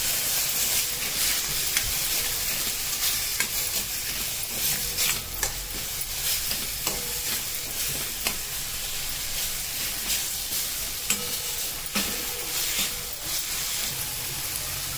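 Homemade black and yellow masala being sautéed in a pan for a chickpea usal, a continuous soft sizzle and hiss with scraping stirs, close up and without talk.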